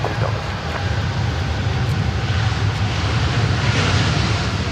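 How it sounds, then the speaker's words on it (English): Steady, loud roar of a Boeing 787 Dreamliner jet taking off from an airport runway, a broad continuous rumble heard from nearby throughout. "The Dreamliner 787 here heading off of runway 16 right."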